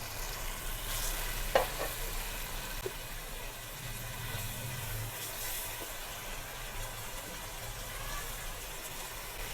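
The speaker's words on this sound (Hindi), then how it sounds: "और बड़ा सॉफ्ट जेंटली आपने इसको स्टिर करना है।" Chicken biryani stirred gently with a spatula, giving a soft, faint sizzle and occasional light scrapes and taps over a low background hum.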